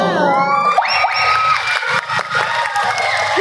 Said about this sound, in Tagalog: Sabay-sabay mo natin palakpakan ang hiyawan si Binibining Maria Atisa Ayun